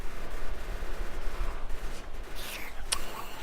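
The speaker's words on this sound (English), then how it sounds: "Stop shooting at me." Rapid gunfire from enemies in the factory-building game Factorio, a dense stuttering burst with sharper shots near the end.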